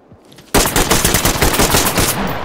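A loud burst of rapid automatic gunfire from a video game weapon erupts after a brief near-silence and keeps hammering without pause to the end.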